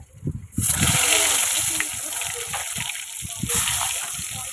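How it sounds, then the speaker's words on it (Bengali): Pointed gourd sizzles and spatters in hot oil in a pan after fish has been fried, a steady bright hiss with crackling bursts, close and continuous, with a voice speaking over it. "পটলটাও সুন্দর করে ভেজে নেব।"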